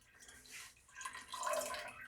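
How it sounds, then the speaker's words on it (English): Water poured into honey in a gallon batch of elderflower mead, a continuous splashing, trickling pour that swells midway and stays close and steady, with no talk over it. "We're going to add in some of the rest of our remaining water."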